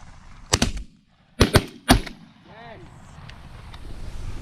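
Shotgun shots fired during an early-season Canada goose hunt in Michigan: two sharp blasts, then three loud reports in quick succession, followed by faint goose honks in open outdoor air.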